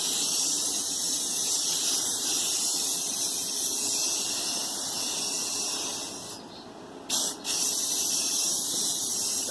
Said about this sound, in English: So now we're going to just try to spray it as evenly as possible.